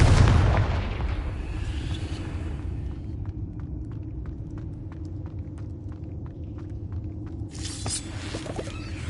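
Confringo spell blasts in Hogwarts Legacy: a loud booming explosion opens, then a long low rumble with faint rhythmic ticks, and a second burst swells near the end.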